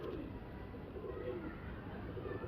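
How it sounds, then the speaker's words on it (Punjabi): A Teddy pigeon at a breeder's loft gives soft, low cooing, faint and close, with a steady quiet background and no other clear sounds. "ਆ ਦੇਖੋ ਭਾਜੀ ਟੈਡੀ ਕਬੂਤਰ"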